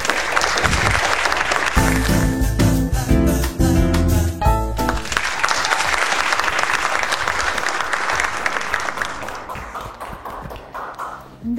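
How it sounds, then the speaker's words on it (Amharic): Studio audience at a television couples' game show claps loudly and steadily for several seconds, with a short musical sting sounding over the applause midway through. "እንደዚህ ሞቅ ባለ ጭብጨባ የተቀበልናችሁ"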